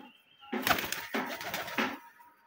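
Golla pigeons coo close by in three soft rounded bursts, with rustling between them and quiet pauses.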